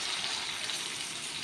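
Water gushes steadily from a pitcher into a pot of pork afritada, a short, even pouring hiss with no break.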